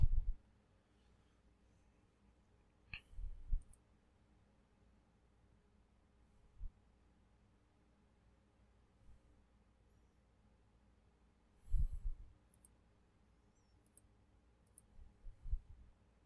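A computer mouse clicks while features are ticked off in an online listing form, giving scattered single and double clicks at irregular intervals, faint and close in a quiet room.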